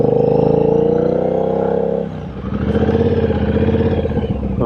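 Triumph Bobber Bonneville motorcycle engine running on a spin test, a steady loud rumble that dips briefly then picks back up with a throbbing, slightly clattery note, heard close with no talking.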